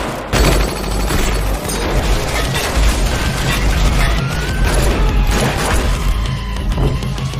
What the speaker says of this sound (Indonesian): di tengah baku tembak antara anak buah setia Mukun dengan pasukan Herta